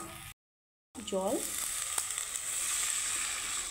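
Water splashes onto hot fried masala paste in a pan after a short silence, setting off a loud, close burst of sizzling that settles into a steady hiss, with a brief squeak at the start.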